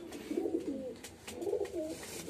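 A male and female pair of stock pigeons coo in soft, rolling, repeated phrases, close by and fairly quiet, with no other sounds around them.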